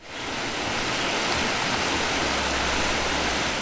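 A river near a rebuilt cabin in the Tuolumne area rushes along steadily, a dense, broad hiss of flowing water that stays loud and constant throughout without any voices.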